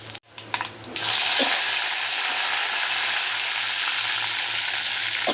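Mustard and fenugreek seeds hit hot oil in a pan for a shark fish curry, bursting into a loud, steady hiss that fills the kitchen after a brief clatter.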